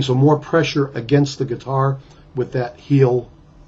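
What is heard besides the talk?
None of the usual background noises is heard.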